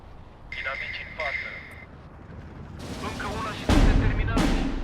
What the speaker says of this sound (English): I'm going to unload the machine gun early